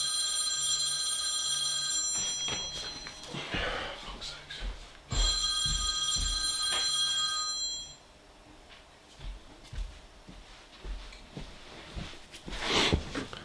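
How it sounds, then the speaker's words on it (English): Phone ringing with a bright electronic trill in two long bursts, loud and close, separated by brief gaps, followed by some handling clatter and low background noise. "Sorry, my phone rang."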